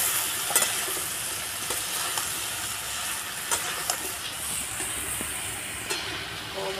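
Green chilli and vegetables sizzling in a pan with prawns for a Bengali stir-fry, a steady moderate hiss under intermittent clinks and scrapes of stirring.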